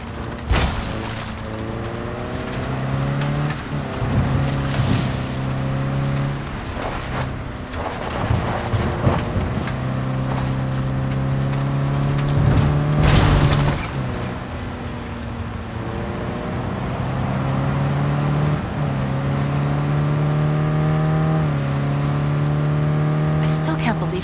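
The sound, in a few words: car driving and revving in video game Cyberpunk 2077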